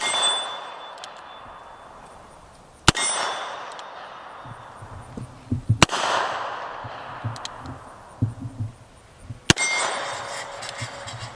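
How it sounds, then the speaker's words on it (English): A Colt 1917 .45 ACP revolver fires at a small steel gong downrange, three sharp shots each followed by a ringing metallic clang that fades slowly, with faint handling noise between them. "I'm going to try to hit the little gong down there"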